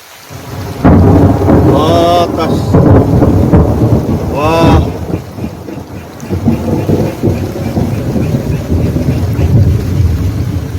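Heavy rain and rolling thunder during a thunderstorm at a freshwater crucian carp fishing spot, loud and continuous, with deep rumbles swelling through the first half and steady downpour throughout, no talk.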